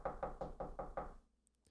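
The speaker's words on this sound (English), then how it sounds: "There's a knocking on the glass." Someone knocks six times on a glass door, firm and evenly spaced raps close by, followed by a brief faint chime after the last knock.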